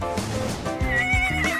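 A horse neighs loudly and close, a whinnying call with a few hoof clip-clops, standing alone without talk.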